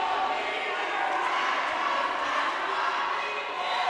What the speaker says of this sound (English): The crowd is incredibly loud